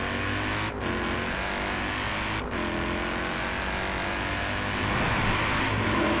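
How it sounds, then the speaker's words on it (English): A Jaguar F-Pace S SUV accelerates on a highway through a tunnel, its engine producing a sustained loud droning roar that echoes and builds steadily, with brief gear-shift dips. "You gotta love that sound of these cars in this tunnel."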